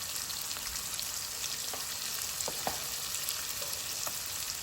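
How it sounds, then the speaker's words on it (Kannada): Chilli powder and coriander powder fry in oil with a steady, close sizzle and faint stirring clicks, no voices. "ಖಾರದ ಪುಡಿ, ಧನಿಯಾ ಪುಡಿ ಎಲ್ಲ ಅದರಲ್ಲೇ ನೀಟಾಗಿ ಫ್ರೈ ಆಗಬೇಕು"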